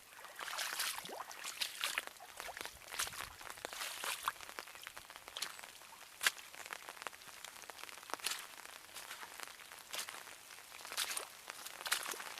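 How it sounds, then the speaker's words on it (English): Rain patters steadily on an umbrella beside water on a muddy nature walk, a dense field of soft, close drops and taps running throughout with no voices. "Can you hear the rain on my umbrella?"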